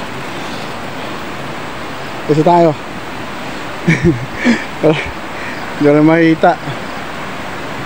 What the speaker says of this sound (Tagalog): Maingay na yung ilog yan